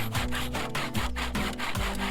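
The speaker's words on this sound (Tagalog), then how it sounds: "Yung nilalagari na yan, pang itaas na frame." A hand saw cuts through 2x4 lumber for an upper frame, the blade dull and binding, with steady rasping back-and-forth strokes repeating roughly every three-quarters of a second, close and loud with no talk.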